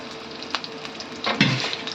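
Onions and green chillies frying in a pan for chicken fry, a soft continuous sizzle with a few faint scrapes and a brief louder burst midway, no voices.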